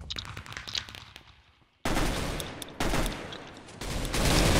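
Gunfire breaks out in a Minecraft Mineplex Counter-Strike game mode: scattered shots and faint clicks at first, then dense, loud bursts of rapid fire and explosive volleys come in close succession, with no talk over them.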